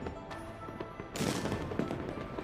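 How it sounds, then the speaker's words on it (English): Fireworks burst across a distant night sky, a dull background rumble giving way to a louder stretch of rapid crackling pops and scattered bangs that keeps going without pause. "Countless fireworks explode across the distant night sky"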